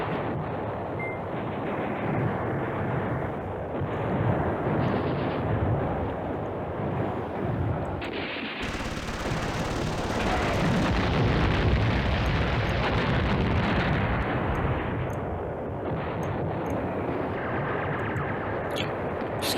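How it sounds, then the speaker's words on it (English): Sustained, dense rumble of airstrike explosions and artillery fire in the WWII war game Command Ops 2, loud and continuous with heavy bursts layered over a constant roar, no voices. "I'm just going to put this airstrike in the middle here."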